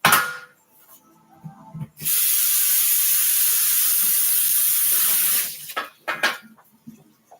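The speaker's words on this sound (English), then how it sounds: "I just rinsed the pan" Water from a tap sprays hard into a pan to rinse off spaghetti crumbs, a loud steady hiss that lasts several seconds and cuts off abruptly, with clanks and knocks from the pan before and after.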